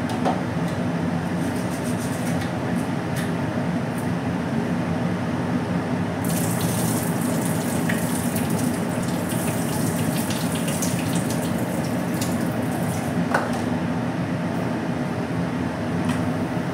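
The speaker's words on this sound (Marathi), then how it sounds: "डाळ तांदूळ ना व्यवस्थित धुवून घेते पाण्याने" Water runs continuously from a tap into a sink while rice and lentils are washed, a steady rushing stream with a few faint clinks, close by.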